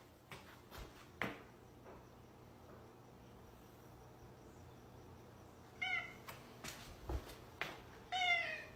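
A pet cat meows several times in short bursts near the end, with chirping crickets and faint household noise filling the quieter stretch before.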